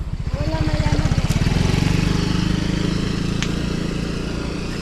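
A motorcycle engine idles close by with a steady, throbbing putter. Its low pulse is clearly spaced at first, then settles into an even drone throughout, with faint background sounds.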